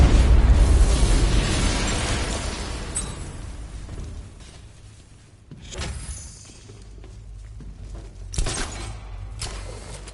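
A loud, close detonation in Batman: Arkham Knight opens with a heavy boom that rolls off slowly into a fading rumble, followed by a few smaller thuds and debris clatters.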